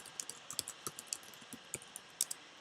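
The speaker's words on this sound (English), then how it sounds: "typing in their email address once again" Light, quick keystrokes on a computer keyboard come in an irregular run of soft clicks, close but quiet, with no talking over them.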